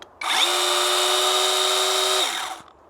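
A Grosser cordless mini chainsaw motor spins up smoothly to a steady high-pitched whine, runs for about two seconds, then winds down, close and loud.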